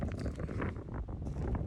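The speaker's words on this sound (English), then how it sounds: "Oh man, it's windy." Gusty wind buffets the microphone at a bear-hunting camp beside a truck, with a steady low roar and uneven surges, close and fairly loud, with no voices.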